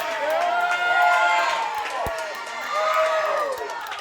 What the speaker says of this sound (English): Listen to how fired up this crowd is